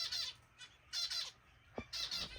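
A small bird gives loud, harsh squawking calls in short repeated bursts, close by, with quiet pauses between.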